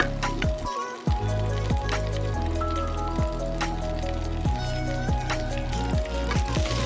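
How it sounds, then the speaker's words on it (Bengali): Cauliflower and potato pieces fry in a pan for a Bengali winter vegetable curry, giving a steady dense sizzle with frequent sharp spits and clinks of stirring throughout, close and fairly loud. "আলু ফুলকপিটা খুব ভালো করে ভেজে নিতে হবে"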